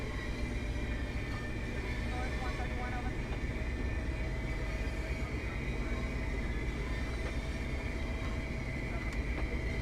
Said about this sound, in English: Throttle up sounds nice inside the cab.